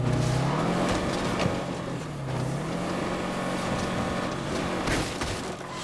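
Car driving in the video game State of Decay 2, a steady engine drone with pitch rising and falling as it revs, running continuously, with a few brief bumps and no speech.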